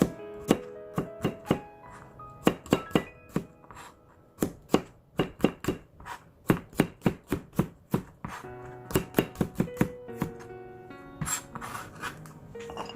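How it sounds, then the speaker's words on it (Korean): Knife on a cutting board thinly slicing five garlic cloves for stir-fried fish cake, a steady run of crisp, close chops with short pauses and no talking. "마늘 5 개만 넣겠습니다. 편 썰어서 넣겠어요."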